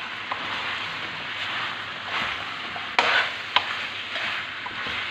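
Pinakbet vegetables being stirred in a pan: a steady, fairly loud sizzling hiss with a few sharper scrapes and knocks of the spoon against the pan.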